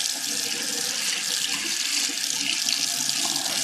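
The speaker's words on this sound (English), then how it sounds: "I'll rinse that first with hot water" Hot tap water runs steadily into a mixing container to rinse it, a continuous bright splashing hiss close by with no talk.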